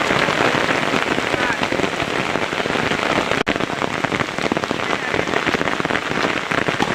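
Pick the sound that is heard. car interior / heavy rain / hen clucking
heavy rain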